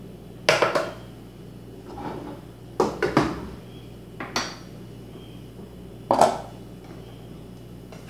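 Dishes and cutlery clink in a few separate bursts while rice, black beans and Brazilian carne seca with pumpkin are plated, the knocks crisp and close against a quiet background.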